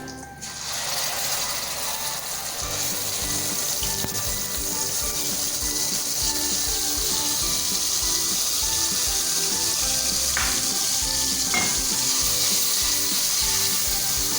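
Masala made from ground tomato paste fries in oil for a white lobia dish, giving a steady close sizzle with rapid rattling, clicking stirring noises throughout and no talking.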